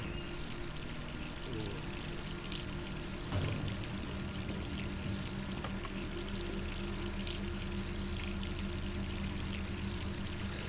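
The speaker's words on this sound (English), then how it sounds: "I'm gonna get a shower." A shower in the video game Resident Evil 3 runs continuously, a steady hissing pour of water with a few faint knocks partway through, heard alone without speech.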